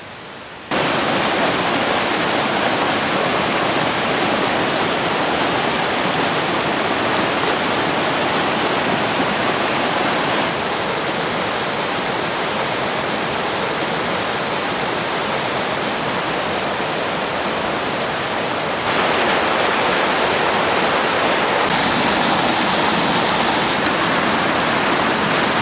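A stream flows beside a nature trail near Vernířovice, a steady broadband rush of water that carries on unbroken throughout, loud and close, with no voices.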